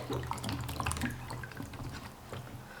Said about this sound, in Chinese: 几个青红尖椒，多清洗几遍